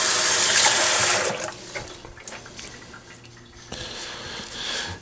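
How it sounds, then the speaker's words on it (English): A kitchen tap gushes loudly for about a second while hands are rinsed, then shuts off, leaving faint clatter and quiet handling noises. "And rinse my hands"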